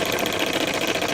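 A 1920s vintage steam boat engine running off its boiler with the propeller spinning, giving a steady, dense mechanical chatter and hiss at an even level and close by.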